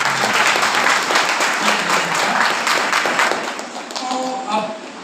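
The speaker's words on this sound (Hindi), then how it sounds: "इनके प्रेम के लिए ताली बजाओ" Audience applause at a Sunday church fellowship meeting, steady clapping from a crowd filling the whole stretch at close range, with a voice speaking over it near the end.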